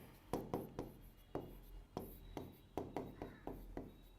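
Chalk or marker strokes on a board in a teacher's classroom lesson, about a dozen quick, crisp scratches in uneven bursts with short pauses, close and fairly clear over faint room noise.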